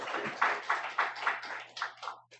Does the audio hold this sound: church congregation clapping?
yes